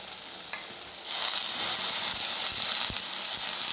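Chicken mince drops into a pan of fried spices for kima ghugni. After a small clink, a loud, continuous sizzle suddenly rises and keeps hissing close up, with a faint scrape partway through.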